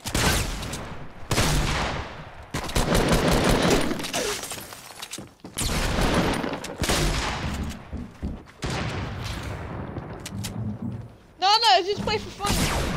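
Gunfire bursts ring out in a 1v1 PS4 video game, dense rapid shots and impacts stacked over continuous talk, with a brief whistling effect near the end.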